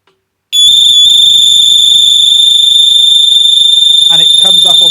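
An Arlo Pro 2 base station siren blares as a loud, steady, piercing high-pitched tone that starts abruptly after a short silence and holds without pause, with faint handling noise and some low talk beneath it near the end.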